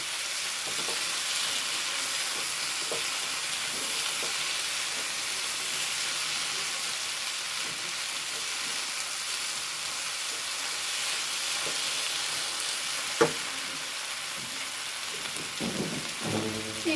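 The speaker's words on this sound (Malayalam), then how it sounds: "മുളക് പൊടി ഇളക്കി കൊടുക്കാം" Chili and pepper powder being stirred and fried in a pan for a jackfruit biryani, a soft steady sizzle with occasional scraping taps and one sharp clink near the end.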